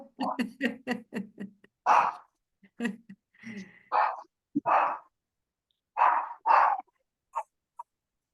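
A family dog barks excitedly as family members arrive home, a series of loud, close, irregular barks and yelps mixed with people talking.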